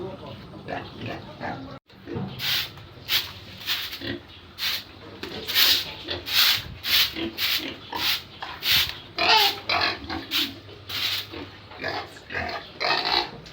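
A pig being washed grunts and squeals repeatedly up close in a rapid, rhythmic series, with splashing water and a person talking underneath.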